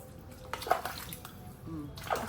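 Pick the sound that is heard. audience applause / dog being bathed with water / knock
dog being bathed with water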